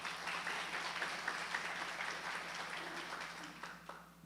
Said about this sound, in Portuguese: Uma salva de palmas para Guilherme, gente